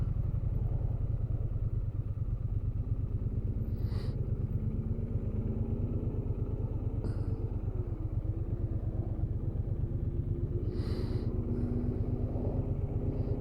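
Triumph Bonneville motorcycle engine droning steadily while riding on a road, a continuous low rumble with engine pulses and faint wind, no voices over it.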